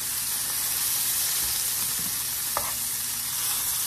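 Pork chops sizzling as they fry in a pan, a steady crackling hiss throughout with a few soft utensil taps and stirring sounds, no talking.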